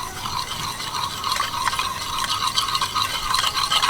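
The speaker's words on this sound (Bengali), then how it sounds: "লিকুইড দুধ দুধ টক দই আর চিনির গুঁড়োটা ভালোভাবে মিশিয়ে নেব" A spoon stirs liquid milk, sour yogurt and powdered sugar together in a bowl for eggless cake batter, making continuous close wet scraping and swishing with a steady rhythm.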